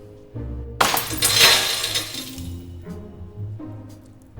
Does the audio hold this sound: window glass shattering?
yes